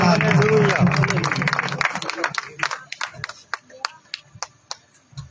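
An audience at a Christian preaching gathering in Lahore claps to welcome a preacher. The clapping rises under a voice, then thins into scattered, fading individual claps that end the applause.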